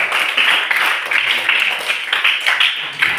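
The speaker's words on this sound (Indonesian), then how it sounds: "Tepuk tangan dulu buat semua." A classroom of students claps together during a maths lesson, producing loud, close, continuous applause with rhythmic pulses for a few seconds.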